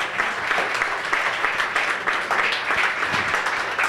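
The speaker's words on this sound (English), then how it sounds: "Let's give Coach Conley a round of applause for that." Steady audience applause at a live college sports event honoring a women's coach of the year, a dense, even wash of clapping that holds at the same level for several seconds without a break.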